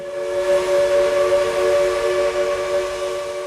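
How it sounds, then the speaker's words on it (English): A steam whistle sounds one long, steady, reedy blast with layered tones, held for the whole stretch without pause and carrying strongly. "when you hear a steam whistle a mile away"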